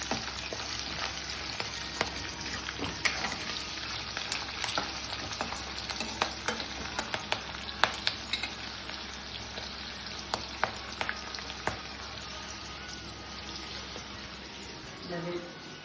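Green chillies, slit lengthwise, sizzle and crackle in hot oil in a pan, with steady frying hiss and occasional sharp pops and stirring scrapes throughout, close and moderately loud.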